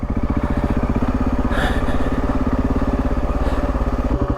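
A motorcycle engine chugs steadily at low revs on a tight-cornered desert mountain track in Iran, loud and close, a continuous pulsing throb with slight rises in speed.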